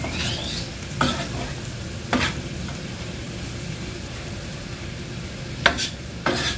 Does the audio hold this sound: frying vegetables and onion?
yes